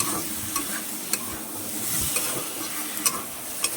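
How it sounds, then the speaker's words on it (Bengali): Potatoes fry with prawns and banana flower in a pan, giving a steady sizzle under repeated scraping stirs of a spatula, heard close and with no talk. "নাড়তে নাড়তে দেখতেই পাচ্ছ আমার আলুগুলো অনেকটা সিদ্ধ ভাব চলে এসেছে।"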